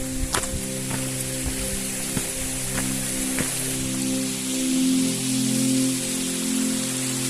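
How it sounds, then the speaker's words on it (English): Forest stream flowing in a dead forest along the Great Glen Way near Loch Ness, a steady close wash of trickling, splashing water with faint scattered ticks, no voices. "A sound we love to hear, the sound of the stream."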